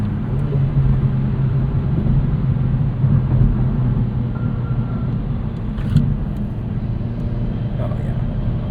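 A 2009 Chevrolet Cobalt SS turbo compact pulls hard after a downshift to fourth gear, its engine a loud, close, steady rumble throughout, with a voice occasionally heard over it.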